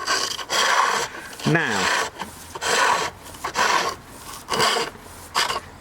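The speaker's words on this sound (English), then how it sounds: "If you want a really small groove, then you need a small spindle gouge." A small spindle gouge cuts a groove into a piece of garden wood spinning on a lathe, giving loud rasping bursts of about half a second each, separated by short pauses, with a brief spoken word.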